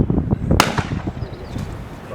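A single loud, close shotgun blast from an Akkar Triple Crown three-barrel shotgun at a clay shoot in the UK, a sharp crack followed by a short rumbling decay outdoors.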